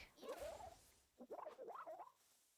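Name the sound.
frog creature in the Palworld video game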